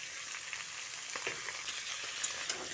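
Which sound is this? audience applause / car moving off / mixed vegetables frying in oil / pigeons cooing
mixed vegetables frying in oil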